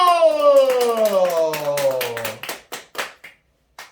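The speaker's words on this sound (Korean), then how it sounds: "박수!" During a Sunday church service, a voice speaks, then a few separate hand claps follow, sparse and uneven rather than sustained congregational applause.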